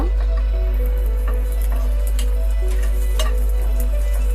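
Dried red chilies frying in oil in a pan while cooking a vegetarian ash gourd dish, a steady loud sizzle with faint crackles throughout and no voices.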